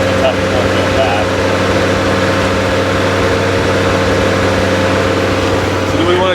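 A classic American luxury car's engine idles steadily and close up, a continuous low rumble with a constant hum and no revving throughout.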